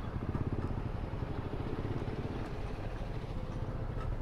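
A Yamaha R15 v2 motorcycle engine runs with a steady, throbbing mid-pitched drone and a slight rise in revs, heard close and continuous throughout, with no talking.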